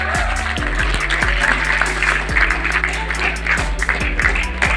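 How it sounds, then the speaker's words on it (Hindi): Loud applause from a crowd at a college parliamentary debate final, after the winners are announced, rolls on continuously, with a low steady hum and scattered tones underneath. "जोरदार तालियां।"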